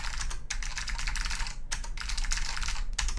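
Rapid, close clicky key presses on an ORION V3 custom keyboard with ALPS clicky switches form dense typing bursts, broken by two short pauses, loud and crisp with no talking.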